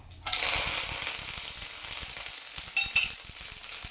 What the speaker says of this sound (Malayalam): ഇനി നമുക്ക് മുളകും കറിവേപ്പിനെല്ലാം ചേർത്ത് കൊടുക്കാം.